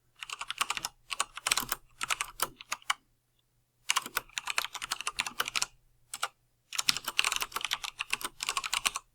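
Java code being typed on a computer keyboard: quick close bursts of key clicks separated by short silent pauses, with no voices.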